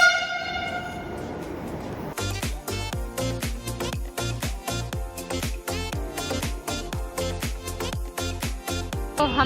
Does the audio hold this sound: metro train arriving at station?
yes